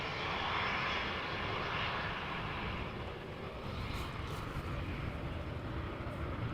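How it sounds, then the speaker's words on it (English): A KLM airplane rolls down the runway after landing at Amsterdam Schiphol, a steady distant jet engine rumble and broadband roar holding evenly for several seconds, fairly faint. "Looking a bit like a KLM landing, keeping up the speed, foregoing the first exit,"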